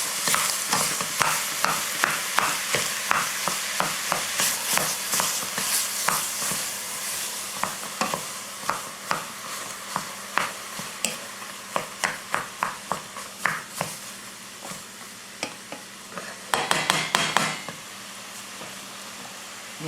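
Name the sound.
ground beef frying with green pepper and onion in a pan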